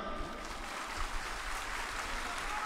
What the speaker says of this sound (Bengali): উনার জন্য সবার আগে জোরদার করতালি।